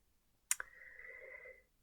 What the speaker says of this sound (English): And I kept shuffling,